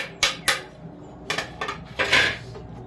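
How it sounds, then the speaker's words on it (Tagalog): Garlic and onion being stirred together in a bowl, several sharp clinks and scrapes of a spoon against the dish in an uneven rhythm, close and fairly loud, with no talking. "Pag-halu-haluin lang natin muna yung mga ingredients na bawang, buyas, sibuyas"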